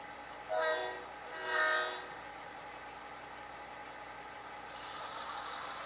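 An HO scale model train engine sounds its horn in two short blasts, followed by a steady rumbling run of engines on the layout with a faint rising hiss near the end.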